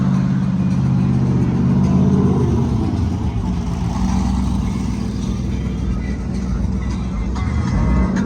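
Cars drive past at a small Cars & Coffee meet, an older Nissan Skyline among them; close, loud engine rumble swells and revs, then settles into a continuous mid-pitched drone.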